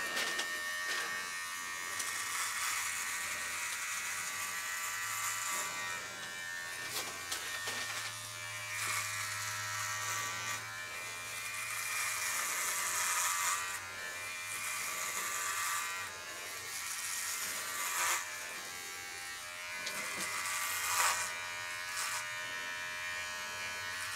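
Dollar Shave Club Double Header electric trimmer buzzes continuously while cutting hair, a close, steady motor whine that wavers slightly in pitch as it passes over the skin, with no talking.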